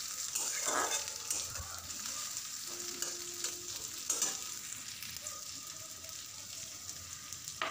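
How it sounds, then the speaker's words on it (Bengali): Chopped onion and slit green chillies sizzling in oil in a pan, a steady close hiss broken by a few scrapes and clinks of a spoon stirring. "পেঁয়াজ লঙ্কাটাকে একসাথে ফ্রাই করতে হবে কিছুক্ষণ।"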